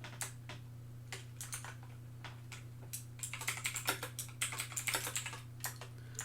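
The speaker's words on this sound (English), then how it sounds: "I keep going to type these in the list, and then I realize I'm typing it in chat." Rapid, uneven keystrokes clatter on a computer keyboard, starting in sparse taps and thickening into a denser burst of typing over a low, steady electrical hum.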